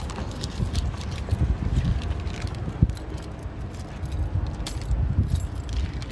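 A bunch of keys jangles and rattles close by for several seconds in an uneven, continuous clatter, with low background rumble and no talking.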